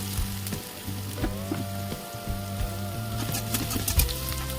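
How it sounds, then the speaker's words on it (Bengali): Chopped onion, garlic cloves and three green chillies sizzle in oil for okra being cooked, a steady close fry with crackles and occasional stirring clatters, no talking. "পেঁয়াজ কুচিটা একটু নাড়াচাড়া করে দিয়ে দিলাম রসুনের কোয়াগুলো তিনটে কাঁচা লঙ্কা"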